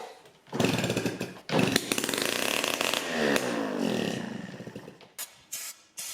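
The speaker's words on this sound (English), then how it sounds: "I'm gonna have to give her a kick and see what happens." A Yamaha QT50 moped engine catches after a kick start and runs loud and close in a raspy, buzzing idle, with sharp revving bursts near the end.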